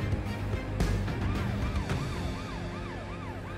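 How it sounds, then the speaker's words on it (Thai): A wailing emergency siren rises and falls in repeated sweeps, steady and fairly loud over a background of traffic rumble, with no voices. "ได้ยินเสียงรถกู้ภัยไม่หยุดเลยอ่ะ"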